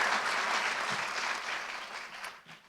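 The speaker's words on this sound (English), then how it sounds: "So a quick round of applause for all of our new and existing staff." Audience applause for new and existing college staff at a spring welcome-back address, steady clapping from a sizeable crowd that tapers off toward the end.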